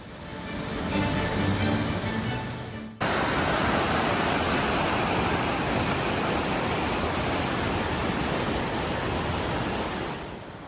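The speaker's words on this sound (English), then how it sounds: "The streams here are the soundtrack of the Great Smoky Mountains National Park" Mountain stream in Great Smoky Mountains National Park, a loud, steady rush of flowing water up close, constant and broadband, with music and narration fading out in the first few seconds.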